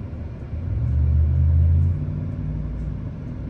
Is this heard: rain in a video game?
no